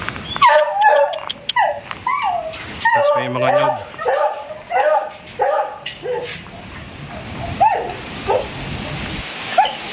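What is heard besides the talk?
dogs barking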